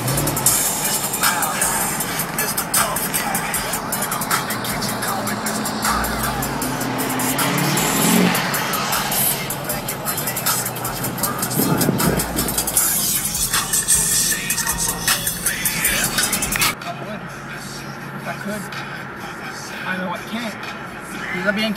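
A car rolls along at Scrapin 2012 in Biloxi, Mississippi with its trunk open, a loud steady engine and road rumble with wind buffeting under people talking, then the noise drops off sharply near the end.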